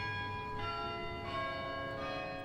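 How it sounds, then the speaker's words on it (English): Church bells ring with rich, sustained tones, struck repeatedly in a slow rhythm from a moderate distance, their overtones hanging in the air. "we heard a sound, church bells"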